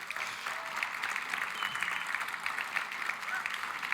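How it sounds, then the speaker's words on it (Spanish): A church congregation applauds, a dense, steady patter of many hands clapping at moderate loudness throughout, with a voice speaking faintly underneath. "Jonathan, ven un aplauso."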